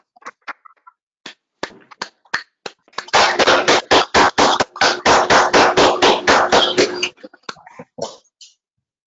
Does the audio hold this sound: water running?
no